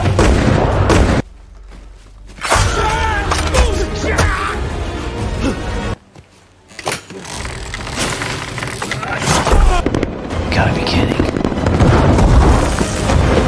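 Explosions and booms from an action film come in loud bursts, mixed with roaring engine and impact effects, and brief near-silent gaps separate the blasts.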